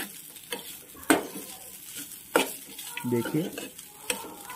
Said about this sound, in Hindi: अब थोड़ा सा धनिया की पत्ती ऐड कर देंगे, फिर मिक्स कर लेंगे।